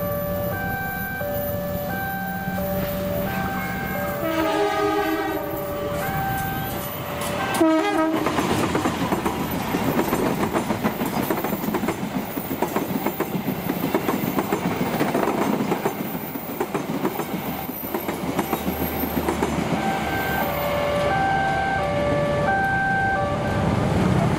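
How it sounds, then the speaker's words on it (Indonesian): Walahar 317 commuter train from Purwakarta bound for Cikarang, arriving trackside: a loud horn sounds in bursts, then a steady heavy rumble and rolling wheel noise that continues close and loud throughout. "ini kereta yang mau masuk adalah komuter lain Walahar 317 dari Purwakarta tujuan stasiun Cikarang"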